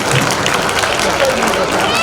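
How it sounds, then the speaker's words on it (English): An audience at a school annual day claps in a thick, continuous burst, with crowd murmur and a voice mixed into the applause. "I once again ask you to clap for him"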